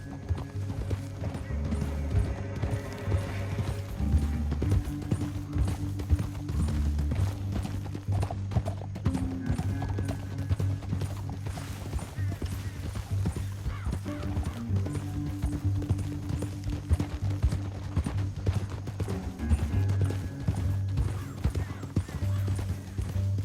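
Video game horse hooves clip-clop in a steady galloping rhythm over a low rumbling background, with an occasional horse whinny breaking through, in Red Dead Redemption 2.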